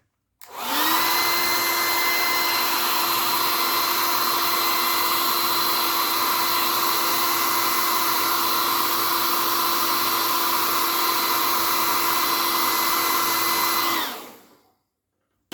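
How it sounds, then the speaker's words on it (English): A steady, loud hair dryer whine, drying paint on a miniature, runs continuously for about fourteen seconds, starting and stopping abruptly, with no talking. "I'm going to hair dry it now."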